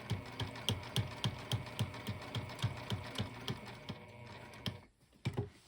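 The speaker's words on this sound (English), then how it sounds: "we're just going to slowly sew right across the zipper" A sewing machine stitches slowly across a zipper on a sling bag, producing a steady series of about a dozen evenly spaced mechanical needle thumps, then a brief pause and a couple more stitches.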